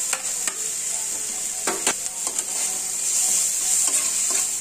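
Chili paste frying in a pan, a loud close sizzle with a bright hiss throughout and a few sharp scrapes and taps of a spatula stirring it.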